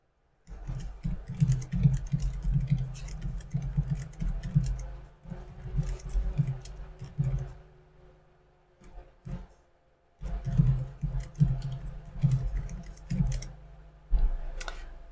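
Keys on a small foldable Bluetooth keyboard are typed in quick bursts of close, crisp clicks, broken by a brief pause before the typing resumes.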